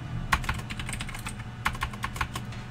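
Bursts of rapid typing on a computer keyboard, close and clear, in two quick runs of clattering keystrokes separated by a brief pause, with no voices.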